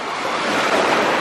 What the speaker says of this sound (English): The waves coming down.